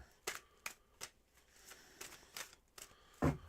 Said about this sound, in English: I'm going to start doing a cleansing shuffle for you